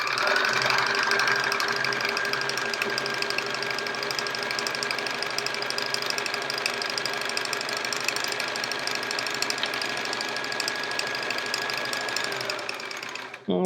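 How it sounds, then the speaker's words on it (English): Sewing machine stitching chevron quilt pieces, a steady close, continuous mechanical hum and rapid needle rattle running for nearly the whole stretch before stopping at the end. "now we'll turn it around 180 degrees and sew on the other side of that line"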